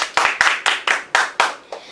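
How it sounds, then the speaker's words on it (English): Clapping for sixth-round dance-off contestants at a school event, seven or eight sharp separate claps in a steady loose rhythm, close and fairly loud, with no talking. "how about a big round of applause for our 6th dance-off contestants?"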